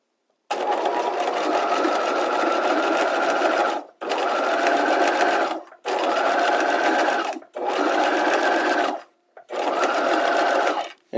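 Sewing machine stitching a hem with a Hong Kong finish, running in five sustained loud bursts of a few seconds each, separated by short pauses, close up with no talk.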